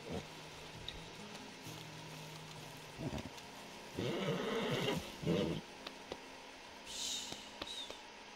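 Horse in the Red Dead Redemption 2 video game neighing and snorting, a rough whinny burst in the middle against a quiet game background with scattered clicks.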